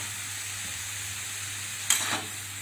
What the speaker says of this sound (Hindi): इन सारी चीज़ों को हम जरा एक मिनट के लिए अच्छी तरह से भून लेते हैं